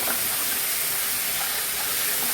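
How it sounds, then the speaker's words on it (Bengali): Ginger and black pepper sizzle steadily in a hot pan while being stirred, a constant, dense frying hiss with no talk. "আদা গোলমরিচটাকে আমি কিন্তু ভালো করে নেড়ে নিচ্ছি"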